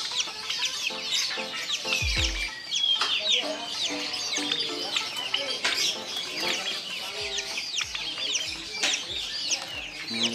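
Young turkeys about a month and a half old at a kiosk selling ornamental pigeons and chickens, giving a continuous chorus of high peeping chirps and clucks close by, with occasional low thumps underneath.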